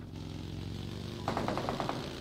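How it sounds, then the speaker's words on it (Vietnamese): Gunfire in PUBG Mobile sounds from behind the player, a quick burst of about six rhythmic shots rising over steady in-game ambient noise, moderately loud. "Kìa có tiếng súng sau lưng nữa kìa."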